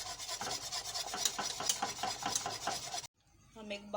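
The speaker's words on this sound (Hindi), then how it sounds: "5 मिनट फेंट के मैं इसमें झाग बनाऊँगी दूध में" Milk being whisked by hand in a bowl to froth it for hot creamy coffee: a fast, steady rasping rhythm of close scraping strokes that runs for about three seconds, then stops.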